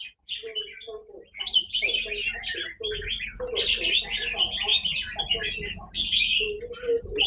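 Caged red-whiskered bulbuls give bright, repeated chirps and warbling calls during a daily bird-bathing and care session, fairly close, with a faint low voice murmuring underneath.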